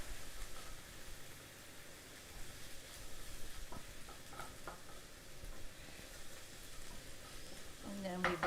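Food fries steadily in a pan while it is stirred, a continuous close sizzle with scraping and patter over about eight seconds, rising a little at the end.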